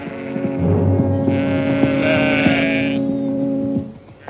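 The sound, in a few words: sheep bleating in a radio drama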